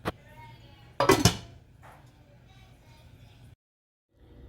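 A metal utensil clinks and scrapes against a pot on the stove, with a sharp clatter near the start and quieter knocks after, then a brief silence.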